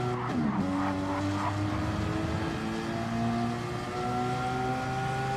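Steady engine drone of several Porsche Cayman race cars in a racing video game at Dragon Trail Gardens, with rising and falling harmonic whines, continuous and loud, with a brief tire screech near the start.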